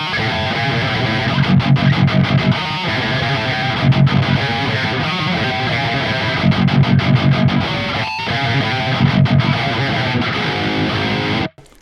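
Heavily distorted electric guitar played through the Neural DSP Archetype Gojira amp plugin, chugging palm-muted riffs in bursts with sustained chords, loud and close, with no talk.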